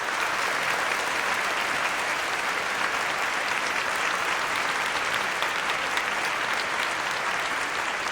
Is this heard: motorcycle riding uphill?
no